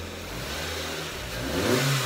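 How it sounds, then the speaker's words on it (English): A Ford Ka with a 1600 engine fitted and still running on a 1300 ECU revs up in a garage sleeper build, the engine note climbing and growing louder toward the end, close and alone. "As Scotty would say, rev up your engine!"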